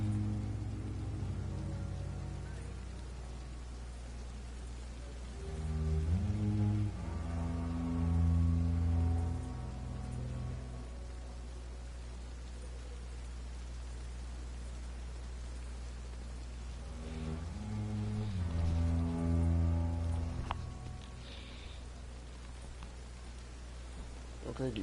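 Steady rain in the video game Vampyr, a constant hiss of falling drops alone in the background, with two stretches of low droning game sound swelling over it.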